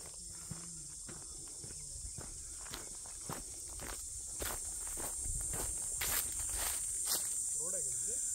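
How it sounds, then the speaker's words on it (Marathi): Crickets chirp in daytime on a forest trek toward Bhivpuri and Kusur Ghat, a steady faint high buzz running throughout, with scattered footsteps and light movement nearby. "रातकिड्यांचा दिवसा आवाज."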